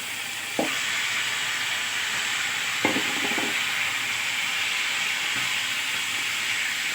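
Shrimp and onion sizzle steadily and loudly in hot oil before rui fish soup is poured in, with a couple of sharp utensil knocks breaking the constant frying hiss.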